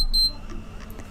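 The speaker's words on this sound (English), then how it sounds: "So you'll hear a beep" An enteral feeding pump gives a short, clear electronic beep right after its start-stop button is pressed to begin running the feed, followed by quiet room background.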